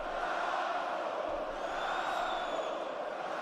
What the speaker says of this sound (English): Spanish crowd chanting Franco